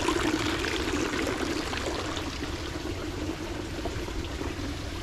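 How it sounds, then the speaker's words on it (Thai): Small waterfall splashing into a garden pond at the Sheraton Maldives Full Moon resort, a steady, broad rush of falling water held at an even level throughout, close by with no voices. "เป็นน้ำตกนะครับ"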